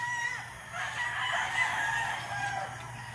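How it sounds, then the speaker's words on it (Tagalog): A broodcock rooster crows at a farm breeding pen, a drawn-out call rising and holding near the microphone over steady background hum, with no talk. "Ito yung Legolas natin na broodcock"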